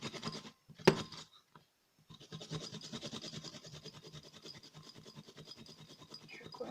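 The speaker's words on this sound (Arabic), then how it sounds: "هاد الحكاكه غادي نحكو بها" A hand grater rasps across a dried, peeled ingredient for a homemade dry-cough remedy, with brief scrapes, a pause, then steady rapid strokes close by.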